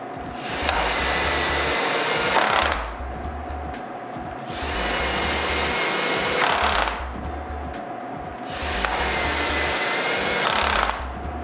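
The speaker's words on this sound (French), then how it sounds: "Toutes les autres vis ont été vissées avec ma perceuse à batterie." A cordless drill drives screws into interior door hinges in three long whirring bursts, each lasting about two seconds, with brief pauses between them. The drill is loud and close.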